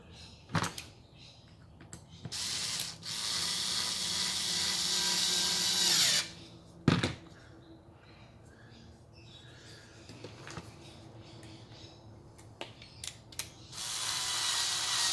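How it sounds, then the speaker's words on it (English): Power drill boring screw holes during cycling-related construction work, several bursts of whining motor rising and stopping, near and fairly loud, with quiet pauses between holes. "Drill the holes for the screws"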